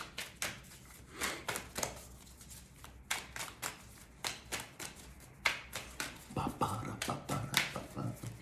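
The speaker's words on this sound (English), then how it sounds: "Long shuffle." Tarot cards being shuffled at close range, a long run of quick riffling bursts and soft slaps, with brief pauses and faint background noise.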